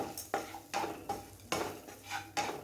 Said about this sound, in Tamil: இது எல்லாத்தையும் சேர்த்து நல்லா ஃப்ரை பண்ணிக்குவோம்.